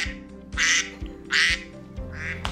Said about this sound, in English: My duck was quacking, but I've got him turned off.